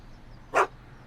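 Einstein the dog in the Back to the Future game gives a single short, clear bark alone against a quiet background.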